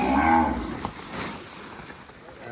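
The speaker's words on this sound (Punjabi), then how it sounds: "ਇਹ ਸਾਡੀ ਜਿਹੜੀ ਮੱਝ ਹੈਗੀ ਹੈ ਜੀ ਇਹ ਦੁੱਧ ਦਿੰਦੀ ਹੈ" Water buffalo on a Punjab village farm gives a deep, drawn-out low, loud and close, that trails off into quieter farmyard ambience with no talk.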